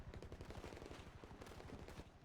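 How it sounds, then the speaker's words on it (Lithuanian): Far-off gunfire rattles from somewhere near a military base in the hills, heard as rapid, evenly spaced bursts like automatic weapon fire, faint and steady throughout. "Bet dar karočią šaudo iš kažkur."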